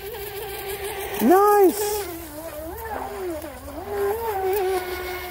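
A 17-inch Tornado self-righting RC boat with a 2,500 kV brushless motor and a 40 amp water-cooled ESC runs across the water, its whining motor rising and falling in pitch as it speeds and turns, while someone briefly speaks over it.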